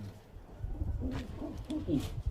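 Pigeons cooing close by, a few soft throaty rolling calls repeating over a quiet background.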